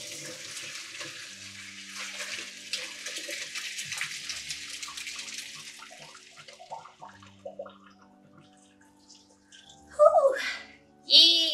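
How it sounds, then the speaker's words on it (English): Hot water from a pot of boiled potatoes is poured off, rushing and splashing steadily at first, then tapering into trickles before a few louder sounds near the end. "So now I'm gonna drain out as much of the water as I can."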